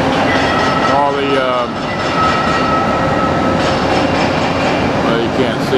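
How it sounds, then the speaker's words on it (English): A train in Houston, Texas rumbles past nearby with a steady roar, metallic wheel squeals and faint clatter throughout. "There went the other train going the other way."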